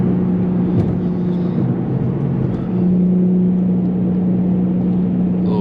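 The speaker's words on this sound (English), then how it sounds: "Fourth gear pull." An Infiniti G37 with a loud exhaust pulls in fourth gear at night, a steady engine drone with a low constant hum, pulling evenly under load with some wind rumble, no clear rise in pitch.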